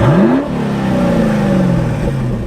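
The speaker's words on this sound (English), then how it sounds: "I can have a more aggressive mode" An LS3 V8 engine in a wagon with a Magnaflow xMod exhaust, valves open in aggressive mode, blips upward close and loud, then drops back to a throaty, rumbling idle that holds steady.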